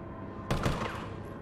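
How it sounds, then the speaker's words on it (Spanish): Gunfire from a firearm in Resident Evil 3 Remake inside the police station: a short, fairly faint burst of a few rapid shots that rises out of a quiet background hum and fades quickly. "erramos los primeros dos tiros"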